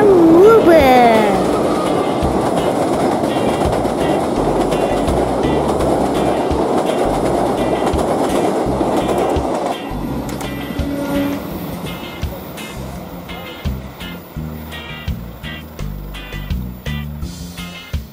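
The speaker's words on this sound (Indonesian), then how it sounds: "Kereta api Pasundan Lebaran dari Kiara Condong ke Surabaya Ngubeng." The Pasundan Lebaran passenger train from Kiara Condong to Surabaya crosses the Mbeling bridge over the Progo river with a loud, steady roar that shifts midway to rhythmic clattering wheel beats on the rails as the carriages pass close by.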